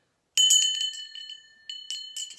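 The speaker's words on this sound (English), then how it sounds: "So I'll begin a reading with a sound, and one that I really enjoy is my chimes." Metal chimes struck to open a tarot reading ring out in a quick bright cluster of clear tones that sustain and fade, with a couple of lighter strikes following, close and alone.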